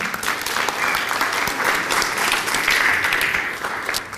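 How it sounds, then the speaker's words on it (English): Steady applause from a crowd, continuous clapping at an even level throughout with no gaps. "How about another round of applause for John?"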